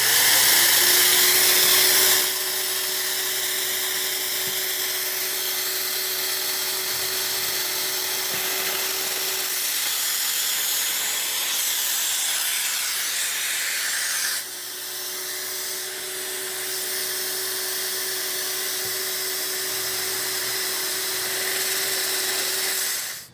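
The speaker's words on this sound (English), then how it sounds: "turn on the vacuum," A steady, loud whine of a Festool dust extractor vacuum runs throughout, with a higher-pitched drill motor cutting in twice for several seconds each, no talking.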